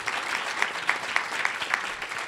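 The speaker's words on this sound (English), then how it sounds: "You deserve this huge applause." An audience applauds at a panel event in Ottawa, a steady wash of clapping with a few sharper individual claps standing out, moderately loud and brief.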